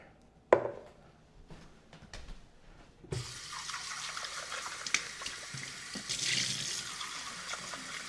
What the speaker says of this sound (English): I'll rinse out the carafe there.